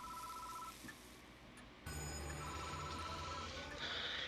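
A telephone rings in the horror video game Death Mark, a steady repeating bell tone over low ambient game sound, growing louder and fuller partway through.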